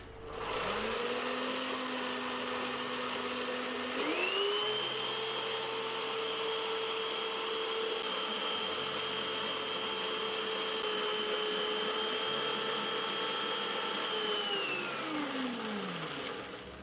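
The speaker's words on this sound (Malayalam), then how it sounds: "ഞാൻ മുട്ടയും ഈ പഞ്ചസാരയും കൂടെ നല്ലതുപോലെ ബീറ്റ് ചെയ്തെടുക്കണം." An electric mixer beats eggs and sugar for a mango cake batter, a loud steady motor whine that steps up in speed after a few seconds, runs alone for a long stretch, then winds down.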